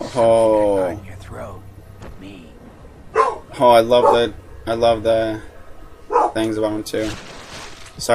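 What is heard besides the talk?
dog barking outside at the neighbours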